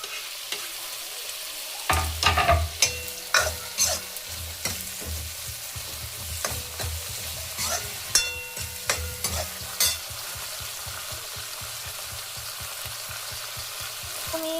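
Onion, garlic and tomato fry in a pan, a soft steady sizzle under repeated scraping and clinking of a spoon stirring against the metal, close and without talk.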